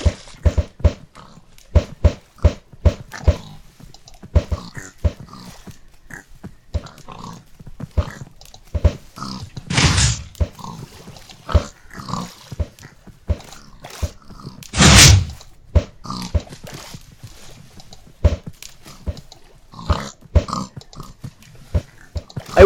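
Pigs grunt in a steady run of short, close, punchy grunts, with two longer squeals or snorts standing out partway through.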